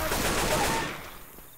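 Gunfire in the video game Left 4 Dead 2, a dense loud burst of rapid shots that quickly tails off into a fading echo.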